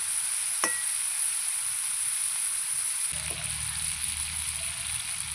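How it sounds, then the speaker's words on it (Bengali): Prawns fry in a pan with a steady, even sizzling hiss that carries throughout, broken by a single sharp click early on and joined partway through by a low hum. "চিংড়ি মাছগুলো আমি ভেজে নেব"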